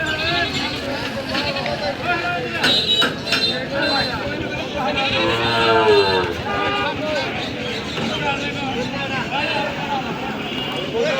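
Goats bleat repeatedly at a busy rural livestock market, several overlapping calls near and far amid a crowd's babble and people talking.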